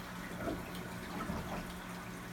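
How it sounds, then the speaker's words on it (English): The drain of a 125 gallon aquarium bubbles and gurgles softly, a faint continuous trickle of water and air with a steady low hum underneath. "that's the drain that you hear right now. It's just moving the air around and bubbling"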